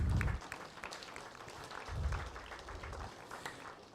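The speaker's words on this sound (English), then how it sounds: "a big round of applause for our sponsors here this evening" A hurling match audience applauds steadily, a dense patter of many hands clapping at moderate volume, heard from a distance.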